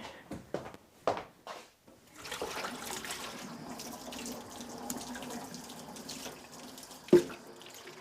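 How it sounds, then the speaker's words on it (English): Hot water runs from a tap into a basin for a foot bath, a steady soft rushing splash at moderate distance, with a few knocks and handling clunks at the start and a sharp clack near the end. "then I can dispense with this water and get some new hot water"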